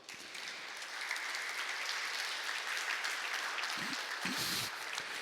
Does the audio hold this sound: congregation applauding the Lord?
yes